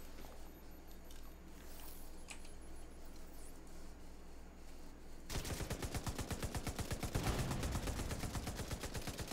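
Automatic weapon fire in The Division 2, quiet game ambience at first, then a loud, sustained rapid stream of shots for the last four seconds, close and steady.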